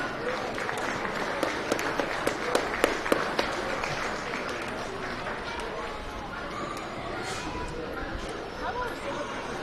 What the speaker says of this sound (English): Let's go ahead and give them a nice round of applause and a job well done.